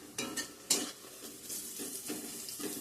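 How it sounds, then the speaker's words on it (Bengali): Dried chili, bay leaf, onion, garlic and whole cumin sizzle in hot oil in a pan, a quiet steady frying hiss broken by several sharp spoon scrapes and stirs against the metal. "এখানে ফোড়নে দিছি শুকনো লঙ্কা, তেজপাতা, পেঁয়াজ, রসুন আর গোটা জিরা"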